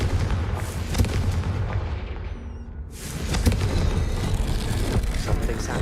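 A fiery Confringo blast spell in Hogwarts Legacy erupts as a loud, rumbling explosion. The roar fades briefly, then swells again into continuous booming and crackling that fills the whole stretch.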